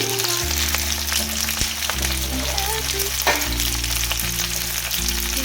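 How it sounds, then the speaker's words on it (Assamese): Onions and tomato frying in hot oil in a pan for desi-style chicken Manchurian, heard as a close, continuous sizzle with occasional stirring clinks. "পিঁয়াজখিনি অকণমান ভাজ খোৱাৰ লগে লগে মই ইয়াতে দি দিছোঁ অকণমান বিলাহী"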